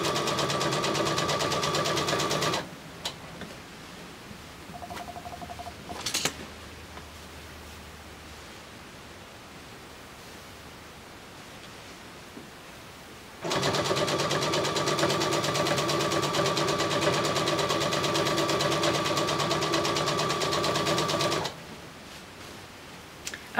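A sewing machine stitching binding onto a quilt runs in two long, steady whirring stretches, one early and one later, separated by a quiet pause with small handling noises.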